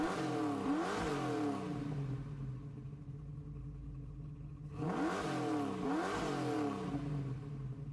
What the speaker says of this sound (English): they use exactly the same engine noise as with the 7-liter, the 429.